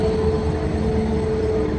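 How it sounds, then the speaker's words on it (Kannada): Steady, loud rumble of a passing goods train, a constant droning roar with a faint tonal hum and no break. "ಗೂಡ್ಸ್ ಟ್ರೈನ್ ಅದ"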